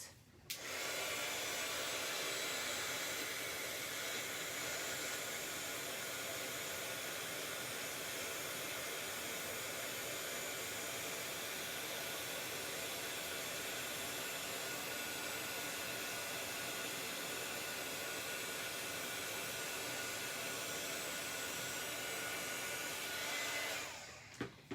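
Heat tool blasts continuously to puff up puffy paint, a steady loud hairdryer-like whoosh of airflow that starts abruptly, holds unbroken for over twenty seconds and then cuts off.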